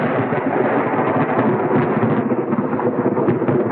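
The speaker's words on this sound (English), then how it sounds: "What an explosion!" A huge ammonium nitrate blast at the Bingham Canyon open pit copper mine in Utah gives a deep, sustained rumbling roar like rolling thunder, steady and loud throughout with no voices.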